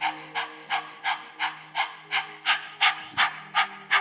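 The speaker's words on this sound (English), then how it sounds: "pant like a dog." Rapid dog-like panting breaths for a Breath of Fire yoga exercise, about a dozen sharp, evenly spaced huffs through an open mouth, close and steady with a faint hum underneath.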